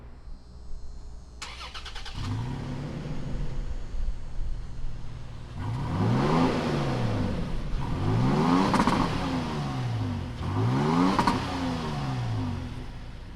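A 2020 Toyota Tacoma Predator truck engine cranks and catches, settles into an idle, then is revved three times in spaced, rising-and-falling surges that each drop back to a steady idle.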